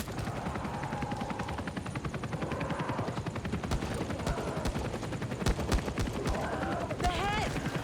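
Rapid gunfire from shooting zombies in the co-op video game Back 4 Blood, a dense continuous rattle with sharper shots, under players' shouting and game voices.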